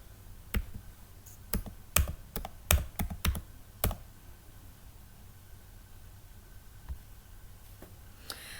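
Computer keyboard typing in short bursts of crisp keystroke clicks, with a quick cluster early on, then a pause and a few scattered taps near the end, close and clear over faint room hiss.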